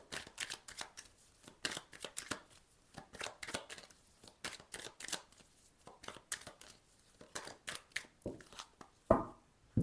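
An oracle card deck is shuffled and cut by hand, close and quiet: repeated papery riffles and soft slaps in irregular bursts, ending with a sharper snap of the cut.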